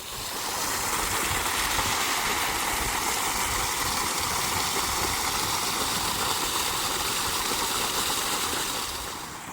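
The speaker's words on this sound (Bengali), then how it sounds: "এখান থেকে মোটর খাটিয়ে আমাদের চেম্বার লোড করতে হবে আমাদের ছয় সাতখানা চেম্বার এভাবেই ভর্তি করা হবে জলে" Water pumped by a motor to fill crab farming chambers in the Sundarbans: a steady loud broadband rush of gushing water with a running engine hum underneath, continuous and close, no speech.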